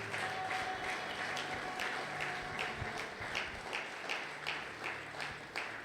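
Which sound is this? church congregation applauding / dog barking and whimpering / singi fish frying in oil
church congregation applauding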